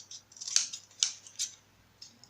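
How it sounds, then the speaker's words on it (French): A paper guillotine cutter chops through overly thick paper in several sharp, crisp strokes, three or four distinct cuts spaced about half a second apart, close and fairly loud. "mon massicot, en fait, il hache le papier qui est un peu trop épais"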